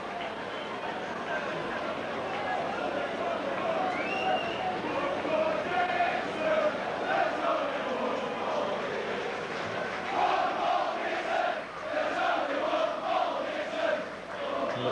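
A rugby league crowd in the south stand at Headingley, Leeds against Rochdale Hornets in 1990, sings and roars in a steady, distant wash of massed voices filling the whole stretch.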